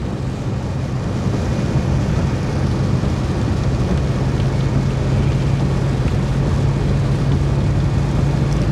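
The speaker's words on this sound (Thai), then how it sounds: "ฝนตกหนักค่ะ" Heavy rain pours on a car driving up a mountain road at Khao Kho on the Phitsanulok side, a dense steady roar with low engine and road rumble beneath, constant and loud throughout.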